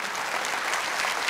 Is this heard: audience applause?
yes